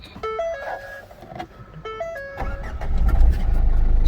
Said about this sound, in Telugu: పుష్ స్టార్ట్ స్టాప్ బటన్తో రావడం జరుగుతుంది చూడండి స్టార్ట్